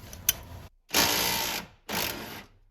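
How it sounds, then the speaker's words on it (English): Two loud, buzzing bursts from an impact wrench with a wobble extension, loosening a nut on a Corvette C5 lower control arm. Each burst lasts under a second and is separated by a short pause. A small click comes before the first burst, and no one speaks. "I'm gonna try to just loosen up this nut with my impact"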